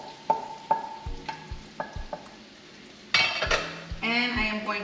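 Garlic goes into onions already sautéing to translucence in a skillet, giving a soft sizzle and fry that swells louder near the end, with utensil stirs and clinks of a spoon against the pan throughout.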